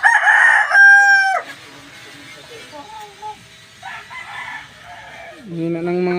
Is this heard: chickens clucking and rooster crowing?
yes